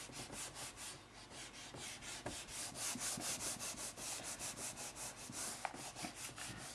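Writing rubbed off a board with an eraser, quiet rhythmic back-and-forth wiping strokes, steady and close, with no talking.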